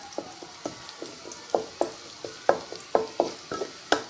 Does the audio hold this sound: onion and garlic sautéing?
yes